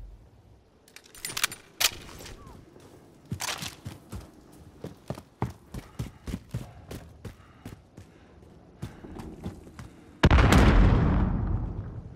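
Sharp gunshots and clicks crack in scattered bursts in the shooter game Call of Duty: Modern Warfare, then a close grenade explosion bursts loudly and its roar slowly fades out.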